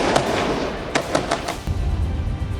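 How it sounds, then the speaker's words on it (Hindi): Explosions and blasts at the Jenin camp in the West Bank during fighting, a string of sharp loud bangs at irregular intervals followed by a deeper rumbling boom, with no talking. "जेनिन कैंप से धमाकों की जोरदार आवाज आई।"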